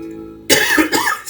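A single harsh cough bursts out after a short silence, followed by a second rougher hack, close and loud.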